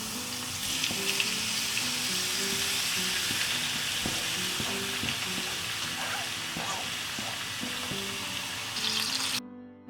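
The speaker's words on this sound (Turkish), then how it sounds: "Arkadaşlar yağımız biraz kızdıktan sonra domateslerimizi koyuyoruz" Tomatoes sizzle and fry in hot garlic oil for çökertme kebabı, a steady close hiss running throughout with faint clinks and a short pause near the end.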